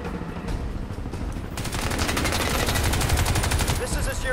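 Automatic gunfire in the first-person shooter Crysis 2 hammers in dense, continuous bursts, close and loud, rising after a quieter opening stretch of game noise.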